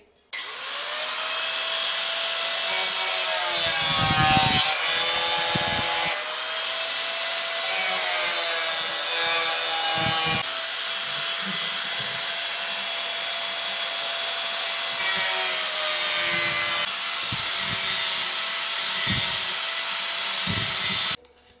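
A power cutter bites through tile for a wall-hung closet installation, a loud, continuous grinding whine with shifting pitch that varies as the blade works, running nearly unbroken for about twenty seconds.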